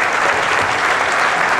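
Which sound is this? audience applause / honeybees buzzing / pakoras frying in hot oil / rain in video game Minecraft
audience applause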